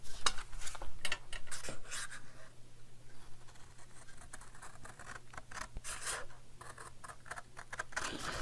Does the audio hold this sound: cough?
no